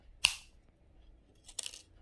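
Jewelry wire ends snipped off a wire wrap pendant with cutters: a sharp close snip, then a second pair of quick clicks about a second later, in a quiet room.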